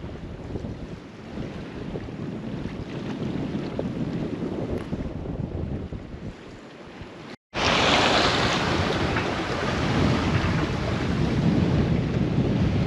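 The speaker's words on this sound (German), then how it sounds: "da tosen die Wellen" Open-ocean waves roaring around a sailing yacht on passage in French Polynesia, a loud, continuous wash with heavy wind buffeting the microphone, cut by a short dropout and then louder.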